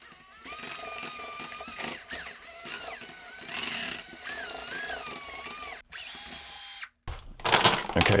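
A power drill with a mixing paddle churns two-part epoxy grout, parts A and B, running steadily at close range with whining pitch shifts as the speed changes, briefly stopping and restarting near the end.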